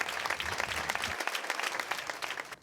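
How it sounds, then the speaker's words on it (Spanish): Applause at a regional party meeting in Castilla y León, a sustained, even crowd clapping that fades near the end, fairly quiet and without speech. "aplausos"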